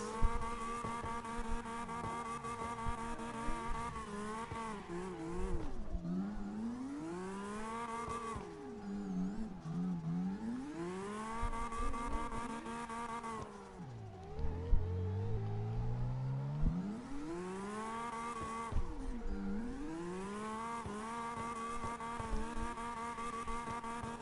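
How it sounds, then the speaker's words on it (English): A car drifts in the video game CarX Drift Racing, its engine whining, revving and dropping through sweeping pitch changes. Tire squeal and screech build during the slides, running continuously with no voices. "He legit did a 180 and started drifting."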